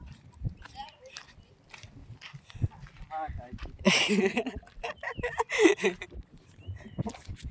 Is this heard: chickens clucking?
yes